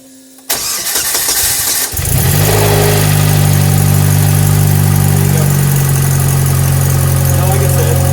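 A turbocharged car with a straight-pipe exhaust cranks and fires up, then settles into a loud, rumbling idle with a deep, raw exhaust drone that holds steady for several seconds.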